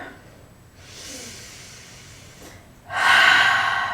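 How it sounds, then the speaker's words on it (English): A deep exhale during a yoga flow, a soft airy breath in the middle of the clip followed by a stronger, louder breath out near the end, close and without talk. "Big deep breath out."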